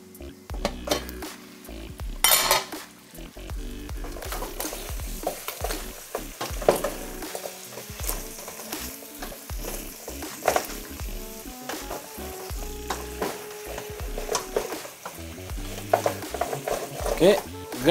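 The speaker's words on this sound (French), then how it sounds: "Gratter pour récupérer tout le sucre de la cuisson qui est dans le fond du chaudron" A Haitian beef-foot ragout is stirred and scraped from the bottom of a cooking pot: continuous sizzling under repeated scraping strokes and occasional metallic clinks, close and busy throughout.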